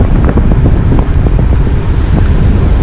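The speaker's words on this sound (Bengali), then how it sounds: "হাওয়া দিচ্ছে" Wind blows hard outdoors in Dzongu, North Sikkim, buffeting the microphone with loud, rumbling gusts that swell and ease continuously, with no voices.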